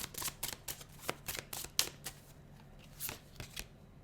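Tarot cards being shuffled and drawn on a table, a series of quick papery riffles and snaps with irregular rhythm, close and fairly quiet, with no talking.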